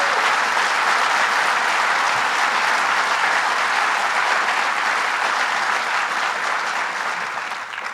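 An audience at a jobs announcement in Dunkirk applauds a speaker, a dense, loud, continuous wash of clapping that holds steady for several seconds before starting to taper at the end.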